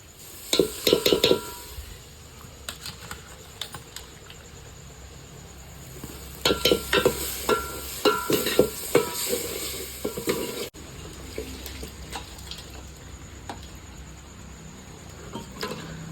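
Mutton for a mutton sukka dries up with a close sizzle in a pan, with bursts of clattering stirs and scrapes against the metal, some quieter stretches of frying in between, and no talk.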